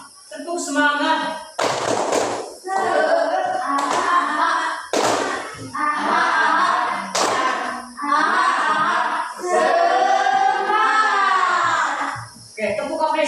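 A class of schoolchildren performs an Indonesian rhythmic spirit clap, with short bursts of group clapping that punctuate a loud, continuous chant of children's voices.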